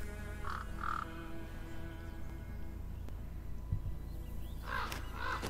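A crow caws in an episode of the animated series RWBY, a few short harsh calls near the start and again near the end over a steady background hum, with no talk.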